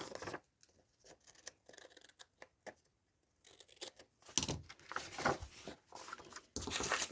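Scissors snip a small piece off a sheet of paper for a winter gnome journal, with quiet, close, sparse clicks and snips followed by louder rustling and handling of paper.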